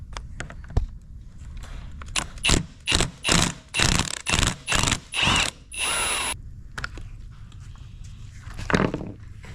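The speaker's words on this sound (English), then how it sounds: "I need to pull out this center bolt right here, and that'll pull the whole steering wheel off" A ratchet backs out the center bolt of a steering wheel on a Dodge Charger Magnum Hellcat station wagon build, about eight quick, close ratcheting bursts in a steady rhythm, then quieter handling clicks.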